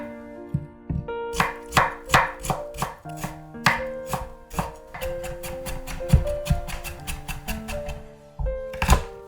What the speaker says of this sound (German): Ingwer fein hacken.